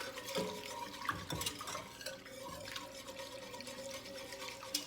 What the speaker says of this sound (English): stirring that in using my whisk because we want to thicken that soup just slightly